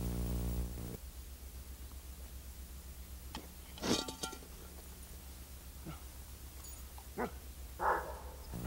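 Sled dogs bark and whimper at feeding time, a few scattered barks at a moderate distance over a steady hiss of old film-soundtrack static.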